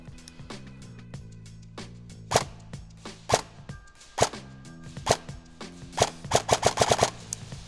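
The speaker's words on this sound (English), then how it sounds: "I'm going to start shooting, and you're going to see where the BBs are going." Airsoft rifle firing BBs outdoors at a siege field, a run of sharp snapping shots, spaced singles building to a rapid cluster near the end, close and loud over a low background hum.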